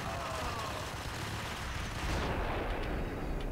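Grenade blasts and gunfire from the Max Payne video game come as dense, loud bursts and a heavy boom. The clatter of shots is layered over a continuous roar of noise.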